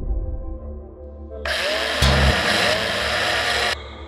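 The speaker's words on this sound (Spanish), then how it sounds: "Has dicho que necesitamos el taladro, ¿no?" A mechanical drill whirs and grinds in the space-survival game Breathedge, a loud continuous buzz that rises in pitch partway through and then cuts off, over a steady low hum.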